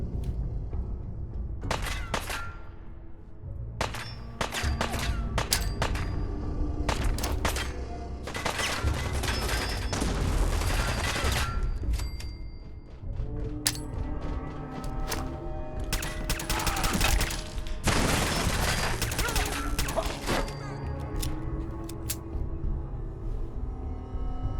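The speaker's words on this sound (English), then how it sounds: "Let's use some pulse grenades." Sustained video-game firefight with bursts of rapid gunfire and thudding pulse grenade blasts, loud and close, continuing almost without a break through the whole stretch.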